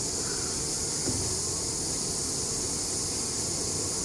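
Honey bees at a top bar hive give a steady, even buzz that holds throughout, with a faint brief tap partway through and no voices.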